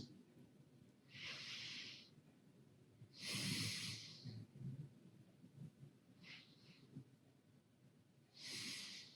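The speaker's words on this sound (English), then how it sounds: "Connect to your soul just by breathing in and out." Slow meditative breaths, each inhale and exhale a soft airy rush close to the microphone, several cycles spaced a couple of seconds apart in a quiet room.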